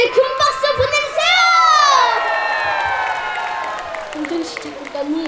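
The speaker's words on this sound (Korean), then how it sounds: "큰 박수 보내주세요!" Audience at an outdoor song festival in Hwasun, Korea, cheering and clapping for a composer, with shouts and whoops from children and adults rising into a loud, sustained crowd roar that slowly tapers.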